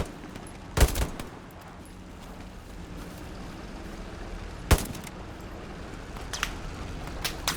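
In a video game battle, a few sharp gunshots crack out at wide intervals, loud and distinct above a steady rumbling background, with faint smaller pops between them.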